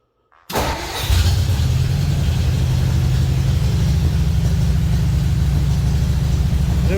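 1954 Ford F-100 engine cranks briefly after a short silence, catches and settles into a loud, steady rumbling idle close by.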